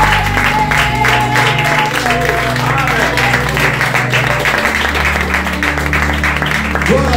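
A church congregation applauds and cheers for the Lord, a sustained dense clapping with crowd voices and music mixed in.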